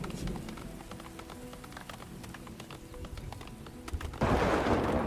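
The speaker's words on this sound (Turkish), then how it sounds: "Yağmur başladı" Rain in the Farthest Frontier video game: soft pattering with scattered clicks over a low rumble, then a louder rushing downpour swells near the end.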